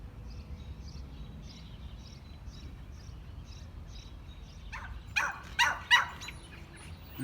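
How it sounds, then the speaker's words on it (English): A neighbor's dog barks far off behind a quiet early-summer garden: a few faint, distant barks near the end over a soft outdoor hush, with light chirping earlier. "you're going to hear my neighbor dog Doogie barking in the background."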